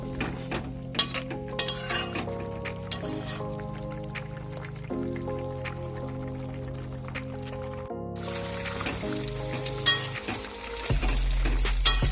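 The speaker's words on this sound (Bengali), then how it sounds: "চাউমিনের জন্য আমি প্রথমে পেঁয়াজ কুচিগুলো ভেজে নিচ্ছি" Chopped onions frying in a pan for chowmein, a faint continuous sizzle with occasional clinks of a utensil, mostly under loud background music that shifts partway through.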